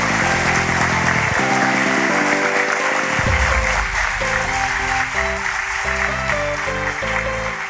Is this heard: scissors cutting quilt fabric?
no